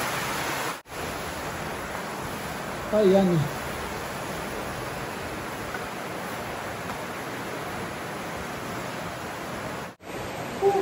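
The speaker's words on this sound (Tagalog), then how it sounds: "Lakas ng ulan." Heavy rain pouring outdoors at night, a dense steady hiss filling the whole stretch with faint background sounds, and a brief voice speaks over it.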